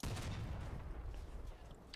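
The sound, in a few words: tank cannon firing in video game Crossout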